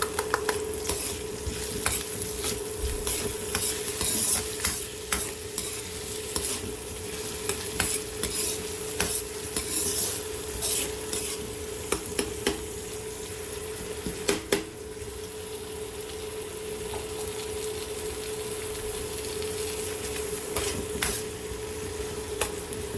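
Chicken browns with minced garlic in a pan for Tuscan chicken. A steady close sizzle runs throughout, broken by frequent scraping and clinking of a utensil against the pan as the food is stirred.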